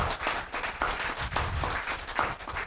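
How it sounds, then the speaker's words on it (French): Audience clapping at an annual family gathering, a steady mid-level patter of hands filling the room for a few seconds with no talk over it. "On peut l'applaudir très fort."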